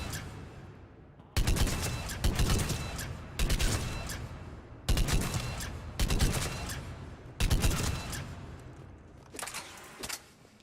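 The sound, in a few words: Argus burst-fire rifle shots in Mass Effect 3 video game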